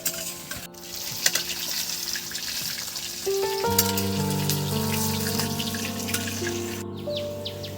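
Potato pieces fry in hot oil with a soft, rain-like crackle and sizzle close by, partly masked by steady sustained tones in the background; no talking.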